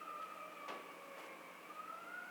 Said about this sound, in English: Got some sirens going on around here today.